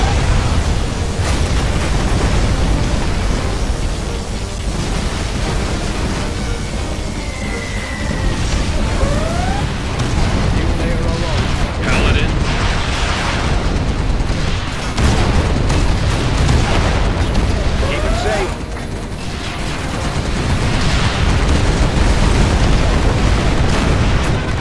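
Continuous loud barrage of booming blasts and sci-fi energy zaps from a particle cannon in Command and Conquer Generals, with occasional whooshing sweeps, dense and unrelenting throughout.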